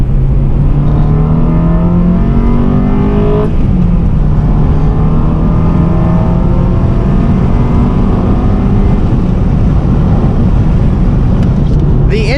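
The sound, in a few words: Honda Civic Si 7th gen engine intake revving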